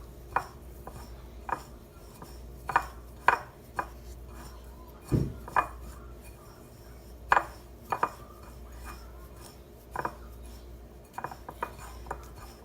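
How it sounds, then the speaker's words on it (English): A spice rub of black pepper and other seasonings for pork shoulder gets mixed in a bowl: scattered clinks and scrapes of a utensil against the dish, irregular and sparse, with a low steady hum underneath and no talking. "You just mix your rub together"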